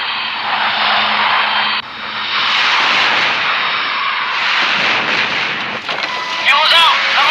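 Aircraft engine roar as a plane takes off in the strategy game Art of War 3, a loud continuous drone that swells and shifts pitch, with brief game effects near the end.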